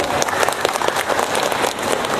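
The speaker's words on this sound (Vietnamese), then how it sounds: "Kính thưa quý vị, chúng ta hãy cùng dành tràng pháo tay" An audience at a charity concert for artists bursts into a thick, continuous round of applause, many hands clapping together in a bright wash with no voices over it.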